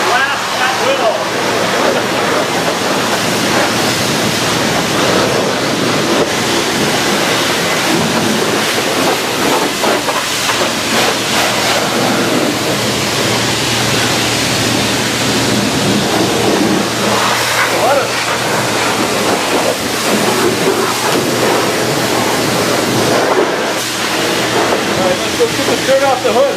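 A pressure washer blasts the wheel of a classic American luxury car, giving a loud, steady, broadband hiss and spray roar that runs without a break, with a voice talking over it.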